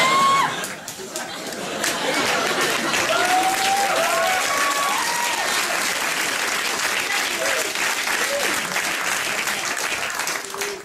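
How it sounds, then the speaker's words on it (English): A late-night television studio audience gives sympathy applause, a dense, sustained wash of clapping that swells and holds for about ten seconds, with some chatter and a few faint cheers mixed in. "In the business, we call that sympathy applause"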